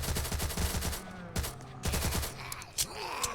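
Rapid bursts of automatic gunfire from a weapon in the Roblox game Zombie Uprising fire in quick strings of shots, loud and close, with short pauses between volleys.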